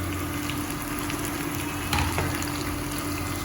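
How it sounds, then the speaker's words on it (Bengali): Pabda fish frying in a pan, a steady close sizzle with a soft clatter partway through and no talk. "পাবদাগুলো ভেজে নিলাম"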